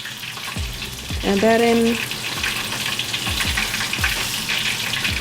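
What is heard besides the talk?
buttermilk chicken tenders frying in oil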